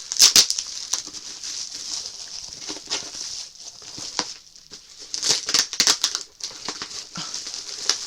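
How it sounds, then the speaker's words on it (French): Packing tape on a parcel is torn and crinkled by hand in repeated bursts of sharp ripping and rustling, close up, with brief pauses between. "je vais juste couper le scotch à la main"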